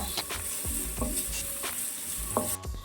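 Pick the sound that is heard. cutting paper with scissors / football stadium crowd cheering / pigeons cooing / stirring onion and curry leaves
stirring onion and curry leaves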